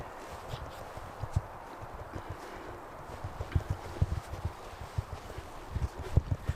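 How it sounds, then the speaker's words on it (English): Footsteps crunching steadily through fresh powdery snow lying over ice, soft muffled thuds in an even walking rhythm close by, with no talk. "I love how the snow makes my footsteps sound so much quieter."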